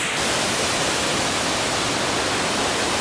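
A powerful waterfall roars nearby, heard from a river safari boat on a Canadian lake tour: a dense, steady broadband rush that fills the whole clip without a break.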